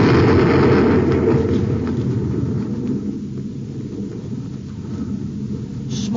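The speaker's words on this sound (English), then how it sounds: "there goes a perfectly good light neutralizer blown to bits" An explosion in an old-time radio adventure drama, a heavy blast whose rolling rumble is loudest at the start and slowly fades, heard with no talking.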